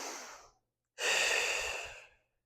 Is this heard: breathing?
yes